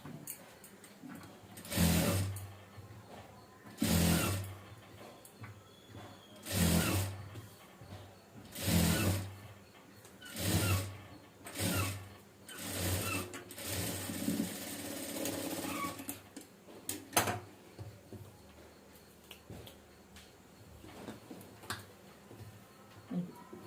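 Sewing machine stitching a blouse piece, with bursts of rapid mechanical clatter in a regular rhythm, separated by short pauses, close and fairly loud.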